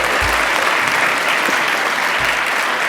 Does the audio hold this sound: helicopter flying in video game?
no